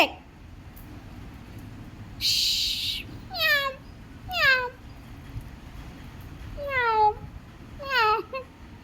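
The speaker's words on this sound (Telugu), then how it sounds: "పిల్లి పిల్లి కూడా వచ్చింది." A cat meows several times in a row, clear, near and loud descending calls repeated with short gaps between them, with a brief burst of other noise just before the first meow.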